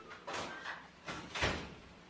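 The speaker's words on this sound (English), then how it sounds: "Lock that door." A courtroom door swings and closes, giving a couple of soft whooshing slides and a muffled thud near the end, close and fairly quiet, with no talking.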